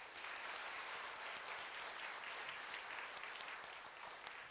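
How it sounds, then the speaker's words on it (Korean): A church congregation at a Salvation Army Sunday service applauds, a dense, steady wash of many hands clapping together at an even level from start to finish, with no voices breaking through. "박수를 드리겠습니다"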